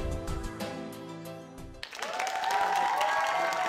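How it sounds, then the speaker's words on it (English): Studio audience at a late-night comedy talk show breaks into a steady wash of applause, sustained and fairly loud, following a brief stretch of music with no talking. "I want you guys to save that applause"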